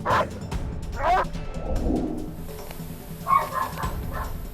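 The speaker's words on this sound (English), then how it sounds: "a bark louder than an alarm clock on a Monday morning" A guard dog barks at an intruder during a break-in, with a few sharp barks spaced apart over a noisy, rumbling background.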